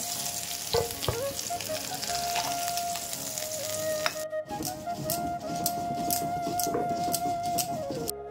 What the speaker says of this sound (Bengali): আলুগুলো ভাজা হয়ে গেছে, আমি তুলে নিচ্ছি।